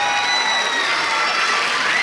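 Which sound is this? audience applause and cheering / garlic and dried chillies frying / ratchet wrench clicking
audience applause and cheering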